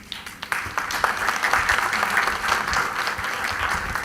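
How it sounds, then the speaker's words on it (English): An audience at an HR conclave at an engineering school breaks into applause, building from scattered claps into steady, moderately loud clapping that carries on throughout. "with a round of applause."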